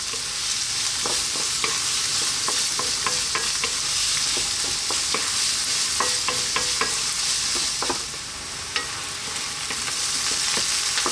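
Onions frying over above-medium heat in a pan for vegan garlic fried rice, a steady close sizzle with repeated sharp scrapes and clicks of stirring throughout, no talking.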